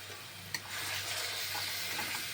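Spices with yoghurt and herb-paste water being fried and stirred in a pan for kuska pulao, a soft close sizzle with a sharp clack of the spoon early on and a steadier hiss after.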